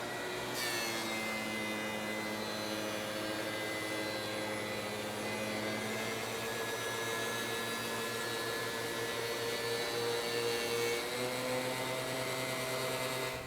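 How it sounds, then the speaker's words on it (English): A Delta DW735 benchtop planer fitted with a spiral cutterhead feeds curly maple, giving a loud, steady high-pitched machine whine with a constant tonal drone, nearby and continuous throughout with no pauses. "let's push some curly maple through here and see the crazy good cut quality"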